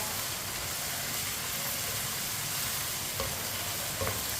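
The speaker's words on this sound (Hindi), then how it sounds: "इसी तरह चम्मच चलाते हुए इसे पकाना है।" Meat and spices frying over a high flame hiss with a dense, even sizzle, and a spoon stirring them adds a few faint scrapes and knocks close by.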